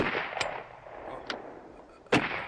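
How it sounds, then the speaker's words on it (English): A car backfiring outdoors: three sharp, loud bangs spaced irregularly, the last the strongest, over steady background noise. "Having some problems with his car backfiring."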